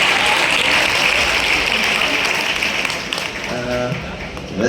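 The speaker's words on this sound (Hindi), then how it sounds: "एक बार तालियां मेरे लिए भी हो जाए।" Sustained audience applause fills the hall at a district event in Balaghat, dense and steady clapping that fades slightly near the end as a voice begins to speak over it.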